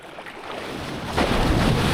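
Shallow sea waves sloshing around a boat, a rushing watery wash mixed with wind buffeting the microphone, growing louder partway through.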